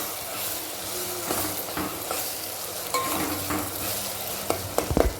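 Soaked soybeans stirred into a pot of khichdi with spices: steady soft sizzle and hiss under scattered scraping stirs and light clinks, close and moderately quiet.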